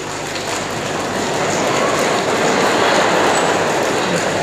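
A large audience makes a continuous, dense patter with their hands to imitate falling snow, a steady broadband rustle that swells slightly and holds without a break, with no voices over it.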